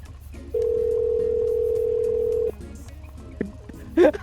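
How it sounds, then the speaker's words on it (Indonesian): A steady ringback tone plays for about two seconds, then cuts off, followed by faint clicks and a brief burst of noise. "Kita telepon Kavi"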